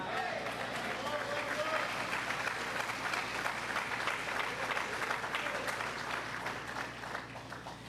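Sustained applause from a large audience at a speech, steady and dense throughout, tapering slightly near the end.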